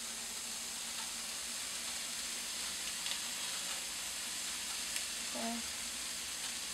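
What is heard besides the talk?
Jimmy Dean sage sausage frying in a pan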